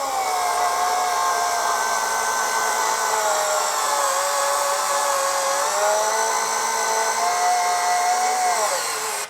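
A Fanttik S1 Pro cordless screwdriver runs continuously while driving screws into a 2x6 board, a steady high motor whine close up whose pitch dips and wavers under load, with no voices.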